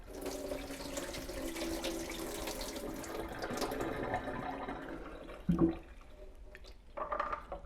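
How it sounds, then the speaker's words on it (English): Tap water runs steadily over sprouting seeds being rinsed in an indoor garden, a continuous close splashing wash that eases off near the end, broken by a brief louder clatter and a short final burst of flow. "we're making sure that every single seed gets rinsed off and they're not clumped together"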